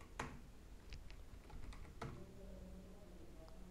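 Quiet keystrokes on a computer keyboard as a terminal command is typed on Ubuntu, a few scattered clicks followed by a faint, close tapping with no talking.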